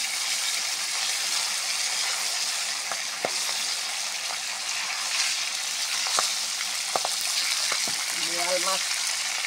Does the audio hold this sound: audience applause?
no